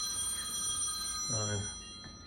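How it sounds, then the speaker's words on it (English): A telephone rings once in the background at a Standard Oil service station diorama, a brief trilling burst over a steady electronic hum and low room noise. "Got a telephone ringing in the background"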